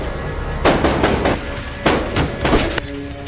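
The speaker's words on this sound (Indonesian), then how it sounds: "Sayang, Otis harus terkena tembakan dari musuh" Gunfire in an action film shootout: three or four loud, sharp bursts of shots crack out over a dense, rumbling soundtrack with no talking.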